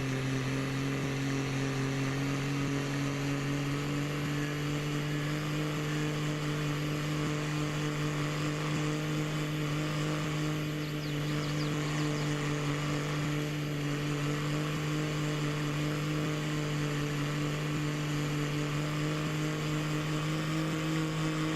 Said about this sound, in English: Talk about over-revving your diesel, good lord.